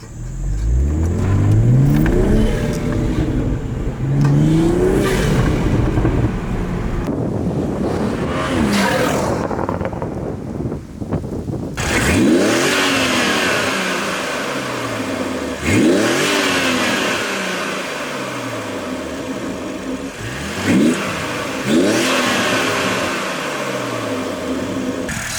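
A 2021 Toyota Supra fitted with an MST V2 intake revs and pulls hard on a short road, loud close engine sweeps rising through several gears with intake roar and brief shift breaks between the climbs.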